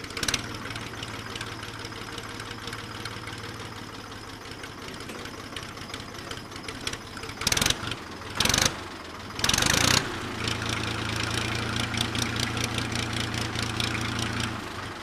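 A tractor over 40 years old idles steadily with a low, rough knocking rumble, close by, with a few brief louder bursts midway.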